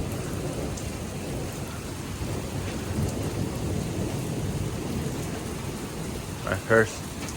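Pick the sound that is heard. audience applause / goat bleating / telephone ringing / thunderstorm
thunderstorm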